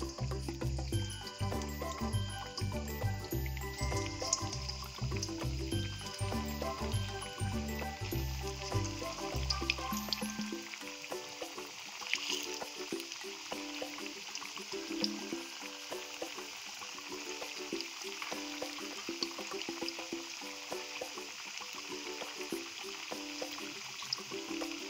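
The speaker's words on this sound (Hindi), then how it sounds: "तो देख सकते हैं हमारा तेल गर्म हो गया है। हम अब एक एक करके अपनी टिक्की डाल देंगे इसमें" Onion pyazi bada tikkis fry in hot oil over medium heat, a dense steady sizzle with bubbling; a low rhythmic clatter sounds for the first ten seconds before the frying crackle continues alone.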